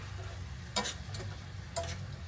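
Steak sizzles softly in a pan after being flipped, a steady low frying hiss broken by a few sharp scraping clicks of a utensil, close and quiet with no talk.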